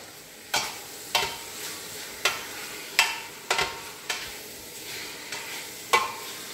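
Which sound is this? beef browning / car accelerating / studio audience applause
beef browning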